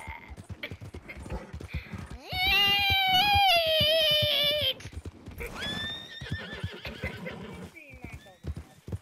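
A horse in Red Dead Redemption 2 gives a long, loud, close whinny between steady clip-clopping hooves, then a shorter second neigh, with people talking over the hoofbeats.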